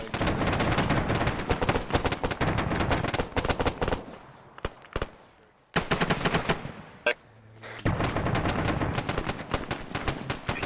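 Sustained bursts of automatic gunfire and rifle shots in ARMA 3 squad combat, loud and dense, breaking off briefly mid-way before heavy firing resumes.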